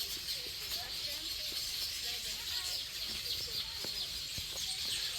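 Birds call and chirp outdoors on open rural land, a steady layer of small tweets over broad background hiss and low rumble, with a voice talking at moments across the scene.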